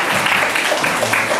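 Steady broadband applause from an audience at a children's literary competition award ceremony, a dense even wash of clapping sustained throughout with no pauses.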